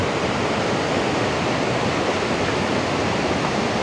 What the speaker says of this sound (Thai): น้ำตกขอนพระเพ่ง